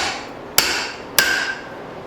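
A hammer strikes a drift twice while forging a spring steel hatchet, two sharp, close metallic blows about half a second apart, each ringing briefly.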